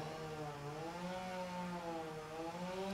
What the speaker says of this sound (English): Ugh, I wish I could tell them to stop with the chainsaw.